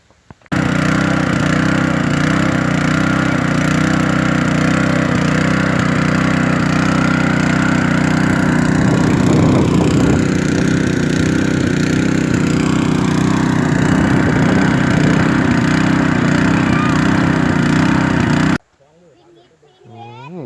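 An engine-driven pump drains a pond to get at the fish, a loud, continuous mechanical drone with a steady low throb and wash of water noise, cutting off abruptly near the end.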